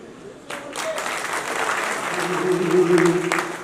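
Audience clapping at a Chhattisgarhi comedy poetry gathering (kavi sammelan) in a cultural hall at Takhatpur, steady applause from a crowd that swells and holds for several seconds, with a voice faintly audible underneath.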